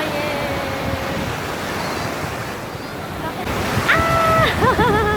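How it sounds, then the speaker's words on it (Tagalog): Strong ocean waves and current roll at a beach in Baler with a close, steady roar of surf and wind, while voices call out over the water near the end. "Lakas ng agos"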